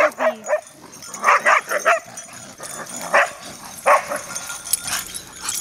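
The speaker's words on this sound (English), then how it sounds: "More playful puppies." Playful puppies yip, bark and whimper in short, scattered bursts, several small dogs close by in an excited back-and-forth during play.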